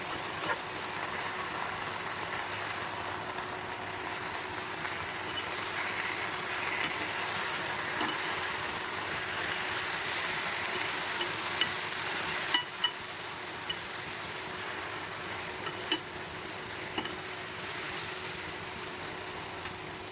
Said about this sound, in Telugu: దాంతో కూడా ఉల్లిపాయలతో పాటు మొత్తం అన్నీ కూడా గోంగూర మనం వేసుకున్న మసాలాలు కూడా ఇందులోనే బాయిల్ అయిపోతాయండి